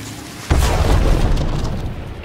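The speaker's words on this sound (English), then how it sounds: "I'm throwing a grenade" A grenade blast in the game Hunt: Showdown lands with a sudden deep boom about half a second in, then rolls into a long, loud rumbling tail that fades slowly.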